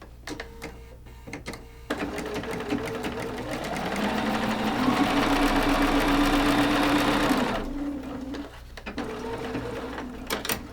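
A sewing machine stitches fabric J onto a quilt block in a steady, close whirring run of several seconds, rising at the start and cutting off cleanly, with softer handling clicks and rustles before and after.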